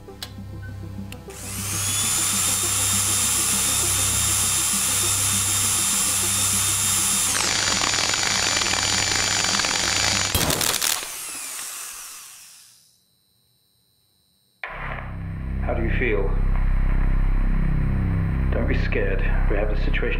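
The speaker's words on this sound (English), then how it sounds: "We're gonna switch the drill on." A lab drill runs in the game Stories Untold, a loud whining motor with a high tonal scream that shifts pitch midway, then a burst of noise, a sudden silence, and a rumbling, rattling restart, with no voices over it.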